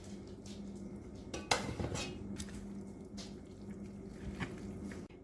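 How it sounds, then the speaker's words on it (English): Drained noodles tumble into a bowl of tuna casserole mix with a clatter of utensil against dish, a few soft wet squishes and clinks, close up and without voices. "Now I'm going to add the drained noodles."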